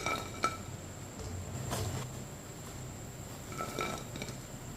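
Fried besan pakoras lifted from the oil with a metal strainer and set onto a plate, giving a few light metallic clinks and taps over a steady low background hiss.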